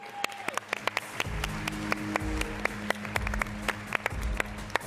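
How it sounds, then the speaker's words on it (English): Audience applause at a startup pitch event, a dense wash of clapping with sharp individual claps standing out, steady and fairly loud throughout. "one more round of applause for Stealthy."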